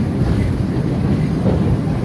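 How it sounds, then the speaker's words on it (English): Narrow-gauge train cars rounding a tight mountain curve in the Rockies give a continuous, close, low rumble of wheels and carriage noise, steady and unbroken for the whole short stretch. "The smaller cars could negotiate tighter curves, such as the one we're making right now"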